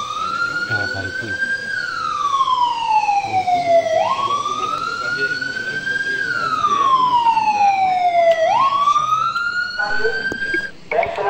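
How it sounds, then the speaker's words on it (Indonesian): A loud wailing warning siren at an andesite stone quarry, sounding the third alert before blasting, its pitch sweeping up and falling in long repeated cycles, steady and prominent with faint background activity. "silakan bunyikan sirine ketiga, peringatan ketiga"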